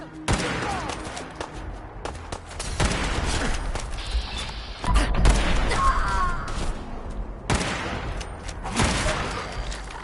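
Gunfire in the video game Fallout 4 comes as dense, rapid bursts of shots and booms that overlap with game effects, and someone speaks briefly amid the shooting.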